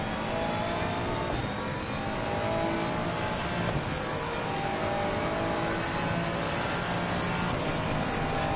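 A Porsche six-cylinder race car engine in a racing video game at Spa drones steadily and loudly throughout, holding a continuous high-revving roar with slight pitch shifts and no pauses.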